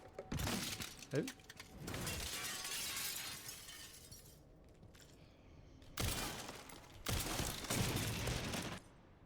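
Glass breaking in Resident Evil: Requiem: several loud bursts of gunfire and shattering panes come in clusters, separated by a quieter lull.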